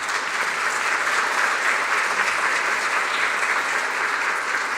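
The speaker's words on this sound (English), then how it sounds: "let's give her a great big round of applause" An audience at a ministry event gives a speaker a round of applause, dense, even clapping that stays loud and unbroken throughout.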